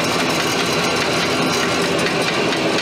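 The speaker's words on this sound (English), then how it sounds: "So that's probably actually running too fast for anything that this lathe is going to want to run in." Steady drive system of a Rann Mayer carpenter lathe running in third gear, a constant loud mechanical whir and rumble with no talking.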